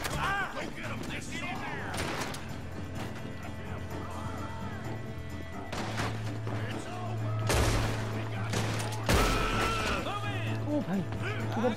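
Gunfire in the Western video game Red Dead Redemption 2 during an attack on a village, several sharp shots scattered over steady background game sound, with people talking throughout.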